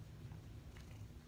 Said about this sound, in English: So if you hear purring,